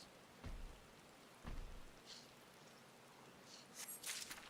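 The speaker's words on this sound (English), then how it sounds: "Oh, it's raining." Rain falling in the video game Final Fantasy XIV, a faint, steady hiss with a few soft low thumps and brief brighter patters, heard alone without talk.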